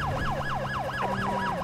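An ambulance siren from GTA 5 wails in a steady repeating up-and-down sweep, loud and continuous over a low engine rumble, with no talking.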